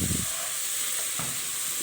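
Orzo pasta toasting in oil in a pot before rice is added, giving a soft, close, continuous sizzle with a faint scrape of stirring partway through.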